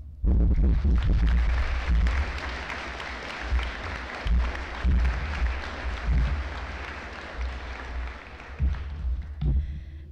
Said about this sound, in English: let's give a round of applause to the friends, parents, teachers, and whoever else has helped to support us to this point